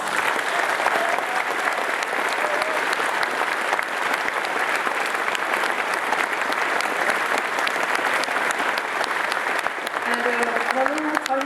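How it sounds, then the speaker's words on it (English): Sustained crowd applause at a convention closing ceremony fills the whole stretch, dense and even, with a voice emerging faintly near the end as clapping continues. "Give yourselves a big round of applause."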